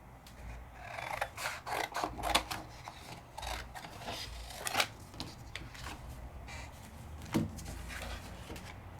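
A Sizzix die-cutting machine being cranked to press two cutting dies through card, giving a quiet run of scraping, crunching and clicking mechanical sounds without talk.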